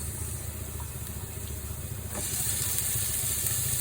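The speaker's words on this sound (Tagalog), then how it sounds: "Ginisa ko muna yung onion sa garlic. At susunod ko po yung ating giniling guys." Ground pork sautéing with onion and garlic in a pan for pancit palabok makes a loud, continuous close-up sizzle that swells slightly louder partway through, with no talking.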